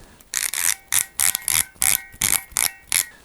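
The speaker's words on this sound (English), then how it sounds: "The clicker on the head is a really nice sound." Ratcheting clicker on the head of a Star Wars R6 astromech droid toy being turned, close and crisp, with about eight short bursts of rapid clicks in an uneven rhythm, no voices.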